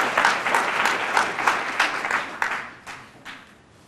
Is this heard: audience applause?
yes